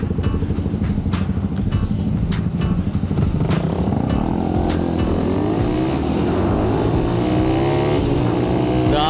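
A Kawasaki Z1000R motorcycle accelerates hard, its loud, continuous engine note climbing steadily in pitch as it pulls through the revs, close and dominant throughout.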